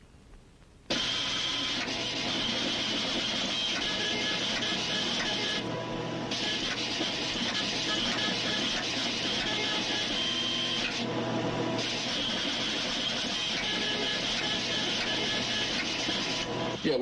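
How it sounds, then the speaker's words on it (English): Continuous mechanical printer run printing out data, a steady whirring drone with two brief pauses partway through, close and loud, set in an old public-domain science-fiction film scene. "we're printing out your data now to see how your fixes are plotted"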